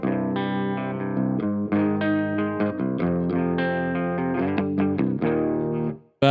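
A heavily distorted electric guitar plays a run of loud, sustained chords and notes, then cuts off abruptly near the end.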